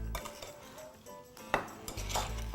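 A spoon stirs fruit and vanilla bean paste together in a bowl for a tart, giving soft scraping with a few sharp clinks against the bowl, close and clear.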